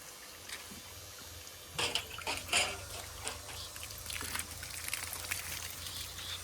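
Water splashing and pouring while a cow is bathed during Holi play with kesuda flower water, with irregular bursts of splashing after a quiet start and faint drips in between.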